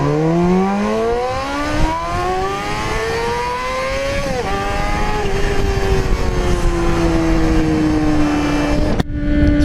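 Motorcycle with Keihin CVK30 carburetors accelerating hard in first gear, engine tone climbing steadily and loud and close, a brief dip midway before pulling on, then cutting off near the end.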